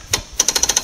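A Lucas sawmill powerhead is wound along its track, giving a brisk run of evenly spaced metallic ratcheting clicks, close and clear after a single opening click.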